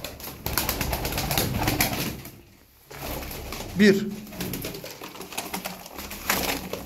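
Tumbler pigeons kept in a loft coo softly, with a short flutter of wings, while someone talks over them at close range.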